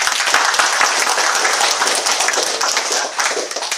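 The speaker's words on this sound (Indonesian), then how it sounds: "Untuk beliau kita berikan aplaus." A crowd at a company project closing and farewell party applauds a guest of honour, a dense, loud clapping that runs steadily throughout and stays near, with no speech over it.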